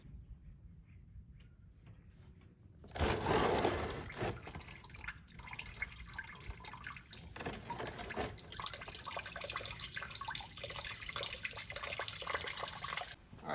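Coolant drains from the radiator petcock of a 2015 Ford Mustang 3.7L V6, starting abruptly as a steady splashing trickle into a pan and running on continuously, faint and close.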